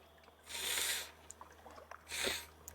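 Two quick, breathy sniffles close by, separated by a short pause, with faint small rustles between them.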